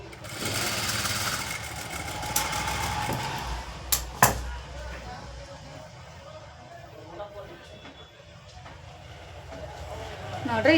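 A sewing machine stitches piping onto a blouse, running in a loud close burst with a few sharp clicks before dropping to a softer hum while a voice speaks over it.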